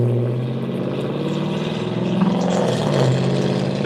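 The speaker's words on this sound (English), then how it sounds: "that car was really loud" A loud car passes close by, a steady broadband engine and road roar that swells slightly toward the end, with no voices over it.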